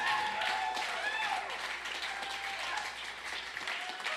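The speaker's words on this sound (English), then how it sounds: "Can we clap for that, everybody?" Soft, distant applause from the audience at a live local music show rises and carries on evenly, a gentle patter of many hands heard from afar.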